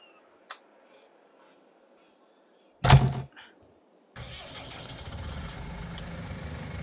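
A tractor engine in Farming Simulator 22 turns over with a brief loud burst, then settles into a steady low idle running alone to the end.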